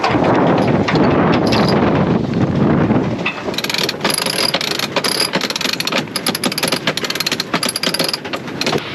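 Mainsail going up on a sailboat in the Scandola nature reserve: after a stretch of blustery wind buffeting, a winch ratchets in rapid, fairly loud bursts of clicking, with no one talking.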